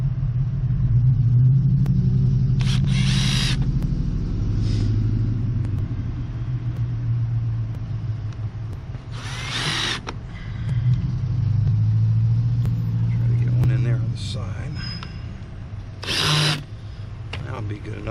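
A power drill drives screws into a downspout drain pipe, whining loudly in long runs and short bursts close up, with a deep rumble beneath and a voice speaking in the gaps.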